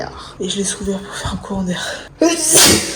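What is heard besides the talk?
sneeze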